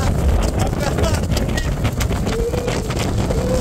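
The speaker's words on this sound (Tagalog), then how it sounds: "Dito sobrang lakas na nung hangin kasi sa labas kami pumwesto." Strong wind buffets the microphone outdoors at Manly beach in Sydney, a loud constant roaring rumble with gusty flutter throughout.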